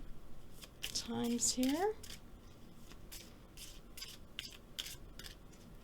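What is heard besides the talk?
shuffling oracle cards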